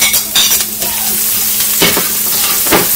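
Ginger, scallion, rock sugar, star anise and Sichuan peppercorns sizzling loudly in hot oil for suancai pork belly, a close continuous fry with stirring scrapes and a few utensil clinks.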